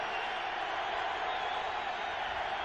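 Vocal football stadium crowd at a Steelers versus Bengals game in Pittsburgh, a steady wash of roaring, distant-sounding crowd noise filling the whole stretch without breaks.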